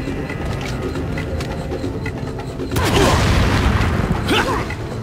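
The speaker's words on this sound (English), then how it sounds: "Explosion gonna be like 2 feet from me" A loud explosion in a video game bursts in about midway, a broad blast rolling out over continuous game noise and music that fills the whole clip.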